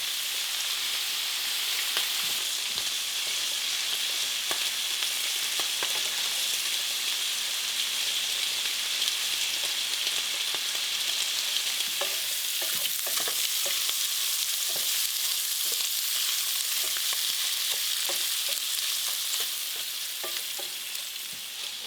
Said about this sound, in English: So I'm just stirring it a bit, and you can see that the onion is carameling up very nicely and getting brown